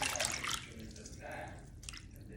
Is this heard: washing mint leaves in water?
yes